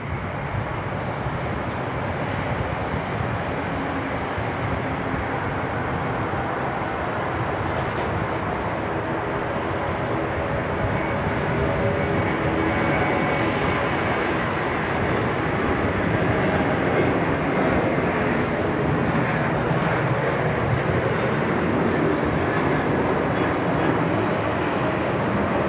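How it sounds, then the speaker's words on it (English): United 863, a heavy airliner, lands on runway 34 left at Sydney Airport, producing a steady, loud, broad engine roar that holds throughout without letting up. "I can see a heavy out there, just about to turn final for runway 34 left."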